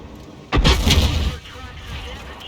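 The main gun of a WZ-111 model 5A tank in the World of Tanks game fires one heavy, booming shot up close, followed by a rumbling tail and low engine noise.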